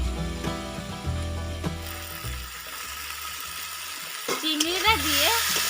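Fried prawns tossed into a pan of potato and pointed gourd masala, giving a steady sizzle with scraping stirs and clinks, partly under a voice that talks over it.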